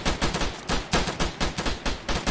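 Rapid automatic gunfire from the military video game Arma, several loud bursts of shots in a steady rhythm over about two seconds, close and dominant with no talking.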